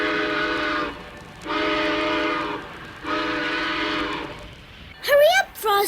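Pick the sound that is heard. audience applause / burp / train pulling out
train pulling out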